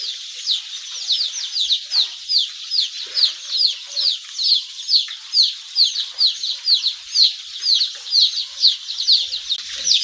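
Hundreds of baby chicks crowd a brooder, their high peeping rising together into a continuous, dense chorus. It pulses in quick waves and runs steadily from start to finish, with no voices over it.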